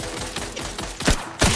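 Gunfire in The Outer Worlds 2 video game, a few loud, close bursts of shots layered over dense combat noise, with the last two reports the sharpest.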